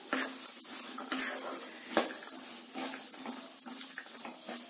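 Chickpea curry being stirred in a pan, a few soft scraping and sloshing strokes over a gentle bubbling simmer, close and moderate in level, with no voices.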